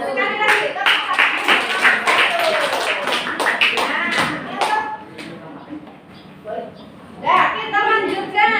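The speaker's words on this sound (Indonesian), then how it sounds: "Sekali lagi, tepuk tangan." A classroom of children claps in scattered, uneven bursts mixed with lively young voices chattering and calling out over the clapping.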